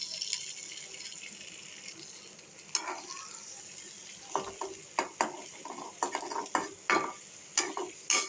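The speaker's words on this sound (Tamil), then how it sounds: "உடைச்ச முட்டையை ஊற்றிக்கலாம்" Beaten egg with a little ghee frying in a pan, a soft continuous sizzle with a series of sharp, close scraping and tapping clicks from stirring, growing busier toward the end.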